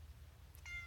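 A cat gives a single short meow near the end, faint and close over a low background hum.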